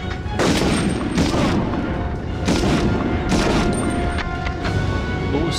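Repeated shots and booming blasts from Medal of Honor on PlayStation 1 come in sharp bursts about a second apart over a continuous noisy battle background.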